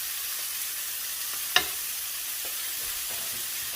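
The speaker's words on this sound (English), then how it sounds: "all we're doing right now is basically just reheating our meat because it's already cooked quite naturally" Leftover cooked ground turkey taco meat reheating in a pan, a steady, even sizzle with one short scrape or clink partway through and faint stirring noises, no talking.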